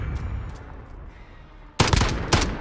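Gunfire in Modern Warfare multiplayer Gun Fight mode: after a quiet stretch, two loud, close single bursts crack out, each with a sharp attack and short ringing tail.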